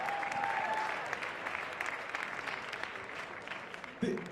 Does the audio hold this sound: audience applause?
yes